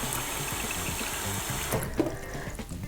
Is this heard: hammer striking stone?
no